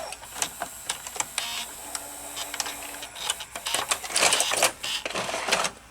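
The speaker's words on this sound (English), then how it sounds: "Now it's rewinding, and I'll show you the other one is faster than this." A Toshiba W804 S-VHS VCR rewinding a tape gives off a steady mechanical whir with a faint motor tone, broken by irregular clicks and ticks from the transport and growing busier toward the end.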